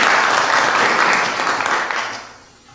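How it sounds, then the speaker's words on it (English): A room gives a newly sworn-in member a round of applause at a city council meeting in Bastrop, loud and dense at first, then fading out over the last second with no talk. "Let's give a round of applause to our new member."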